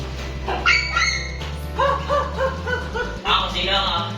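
A dog barks and yips several times up close, short sharp bursts in quick succession, while people talk nearby.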